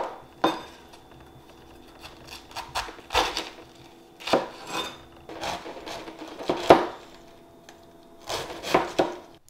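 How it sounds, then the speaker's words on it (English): A knife chops cabbage and red onions on a cutting board, making irregular sharp thuds and slicing taps that come in short clusters, close and fairly loud, with no talking. "Now we're gonna cut up some veggies."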